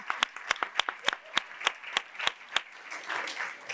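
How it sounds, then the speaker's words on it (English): A crowd claps in sustained applause at an indoor event with Attorney General Letitia James, sharp individual claps standing out over a dense wash that thickens toward the end. "Let's applaud them because they're the guys who get it."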